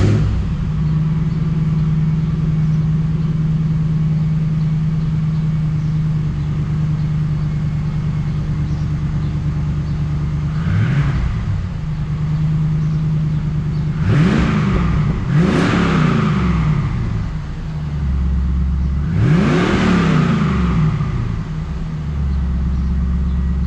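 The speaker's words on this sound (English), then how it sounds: "let's hear the Camaro" A Camaro engine idles steadily, then revs up in sharp bursts around the middle and near the end, loud and close, with the pitch climbing and falling on each throttle blip and no talking.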